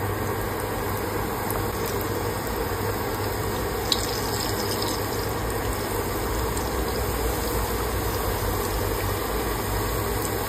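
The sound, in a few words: cheese turnovers frying in hot oil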